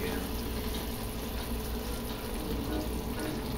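Hot softball-stage topping being poured onto a prune cake, a soft continuous liquid hiss and trickle heard faintly up close, steady throughout.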